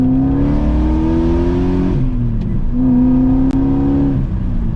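A BMW E34 540i sedan's M60B40 V8 engine revs up loudly and steadily, its pitch rising, dipping briefly as it shifts, then climbing again, close by with no talking.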